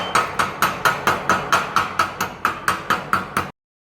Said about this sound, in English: And I'm going to scrape the slag off.